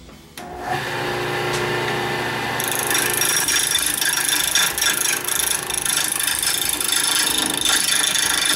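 A lathe spins up to turn a Banksia seed pod, starting with a low mechanical start-up and settling into a loud, steady whirring drone with rough, rattling texture, close and without talk.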